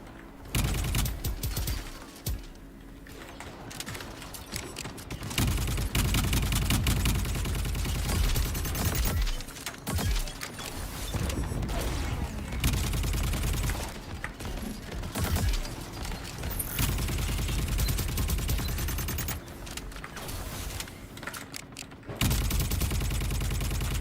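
Gunshots from distant shooters in a video game, sustained bursts of rapid gunfire with brief gaps, loud and continuous through the scene.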